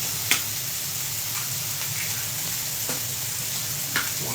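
A couple of eggs frying in a non-stick skillet, with a steady sizzle and a few soft taps and scrapes at the pan.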